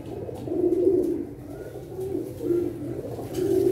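Teddy pigeons coo nearby in soft, repeated throaty bursts over a low background hum.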